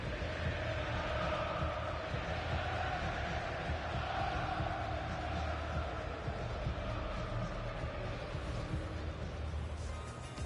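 Steady murmuring roar of a stadium crowd in a football video game featuring Coventry City, a constant distant wash of massed voices at low level without distinct cheers.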